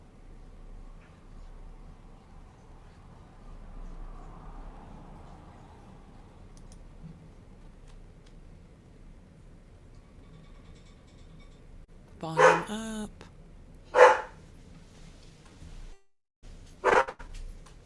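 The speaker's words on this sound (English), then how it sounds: "Mute my dog." A pet dog barks a few sharp times near the end, loud and close, after a stretch of quiet background murmur on an online call.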